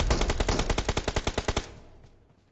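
Gunfire in a video game match: a rapid, evenly spaced burst of about fifteen loud automatic shots, close and dominant, ending with a short fading echo.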